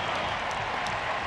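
A baseball stadium crowd at a Yankees–Braves game roars and applauds a fair ball, a dense, steady wash of cheering that holds at full level for its short duration.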